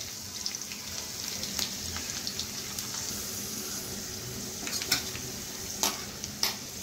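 Cumin seeds, whole garlic cloves and asafoetida sauté in a hot pan, giving a soft, steady sizzle with occasional scrapes and taps of a stirring spoon throughout.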